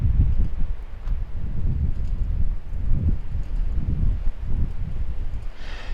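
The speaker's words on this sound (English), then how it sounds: "Again, it is still very, very windy." Strong gusty wind buffets the microphone in low, uneven bursts during a drone flight test in roughly 40 mph conditions, with a faint high whine near the end.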